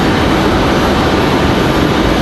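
An American Airlines A320 lands in a crosswind at Raleigh-Durham, heard as a loud, dense roar of rushing engine and air noise that holds steady and close for the whole short stretch.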